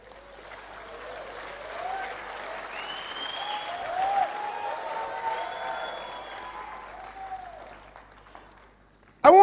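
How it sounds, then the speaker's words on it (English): An audience applauding at a talk, clapping that builds to a peak at mid-length and then fades away, with a few voices calling out over it. "Clap."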